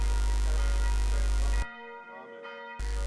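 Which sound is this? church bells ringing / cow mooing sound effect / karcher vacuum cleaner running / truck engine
church bells ringing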